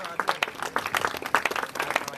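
Wedding guests clap in a quick, uneven patter of sharp hand claps, with faint voices murmuring underneath.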